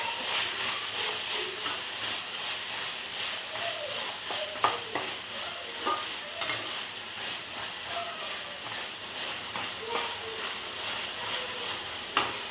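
Onions fry steadily in a pan for pav bhaji, a continuous close sizzle and hiss with scattered scraping clicks from stirring throughout, no voices.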